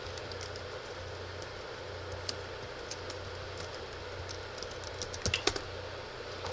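Light tapping on a computer keyboard while editing Rome: Total War text files. The keystrokes are faint and irregular, with a short cluster near the end, over a low steady hum.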